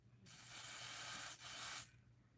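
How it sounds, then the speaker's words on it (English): A can of Febreze air freshener sprays indoors: one close, loud hissing burst lasting about a second and a half, with a momentary break partway through, then quiet. "Now you spray it one more time."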